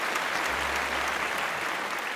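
Brief audience applause, a dense, even patter of many people clapping for about two seconds, with a low hum underneath and no talk.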